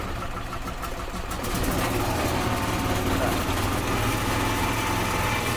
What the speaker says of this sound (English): So it does run. Well, cranks over. It does run. Obviously, it's trying to start.